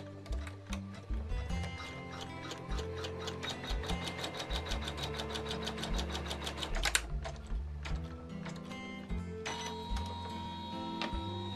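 A sewing machine stitches a seam through quilt fabric with a steady, rapid mechanical chatter. The needle runs in continuous bursts with brief pauses and speed changes, close and clear throughout.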